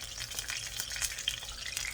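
Egg rolls frying in hot oil give a steady, close crackling sizzle with dense bright bubbling and small pops, continuous for the whole stretch with no voices.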